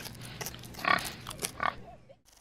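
Pig grunting and oinking in short bursts on a farm, a few close snorts spread over a couple of seconds with quiet gaps between them.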